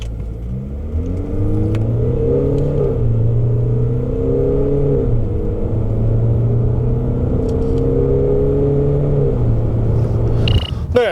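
A 2018 Genesis G80 2.2 diesel with HTRAC accelerates hard from inside the cabin, engine drone climbing in pitch and dropping at several gear changes over a constant road rumble, loud and continuous.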